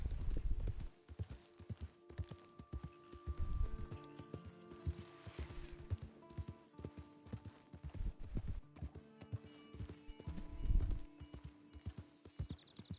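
Horse hooves clip-clopping at a steady gait in the video game Red Dead Redemption, a continuous rhythmic trot close up, with music and game ambience running underneath and no talk over it.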